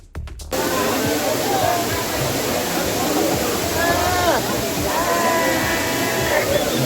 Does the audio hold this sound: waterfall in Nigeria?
yes